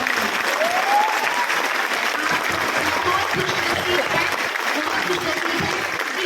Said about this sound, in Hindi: इसके लिए एक बहुत बड़ी ताली होनी चाहिए आपके लिए